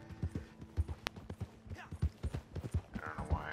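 Horse hooves clip-clop in a steady rhythmic gait in the Red Dead Redemption 2 video game, moderately loud and close, with a brief tonal blip and faint game ambience; talk is present.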